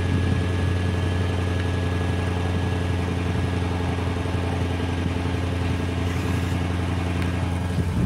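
A Lexus GS430 with its 3UZ-FE V8 and modified exhaust idles cold with no revs, a steady deep rumble that holds close and even throughout with no talk.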